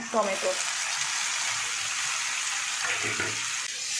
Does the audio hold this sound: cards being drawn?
no